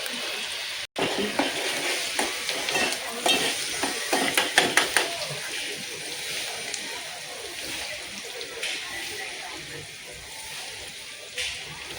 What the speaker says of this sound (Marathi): कांदा लसूण पेस्ट टाकले आणि आता याला मस्त की घाटून घ्यायचे आणि ब्राऊन कलर करायचे